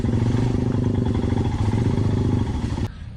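Motorcycle riding along a tarmac road in Ladakh, its engine droning loud and steady up close with rattling clatter, then cutting away abruptly near the end.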